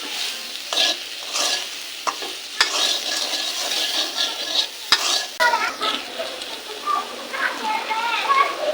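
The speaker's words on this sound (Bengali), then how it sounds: "এবার আরো কিছু সময় আলুগুলো ভেজে নেব।" Potatoes frying in a pan give a steady sizzle, broken by scraping, clattering stirring strokes near the microphone, with a voice speaking briefly over the cooking.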